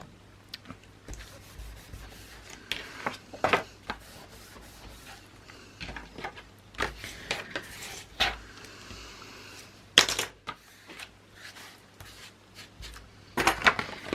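Paper being folded, pressed and glued into a scrapbook photo album, with soft intermittent rubs, taps and short rustles spread across a quiet, close background.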